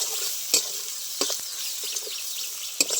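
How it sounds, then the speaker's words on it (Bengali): Spice masala for village-style fish cooking in a pan, with chilli powder among the spices, a continuous bright sizzle broken by a few sharp scraping strokes of stirring, close by and without speech. "কিছুক্ষণ খুব ভালো করে কষে নেব।"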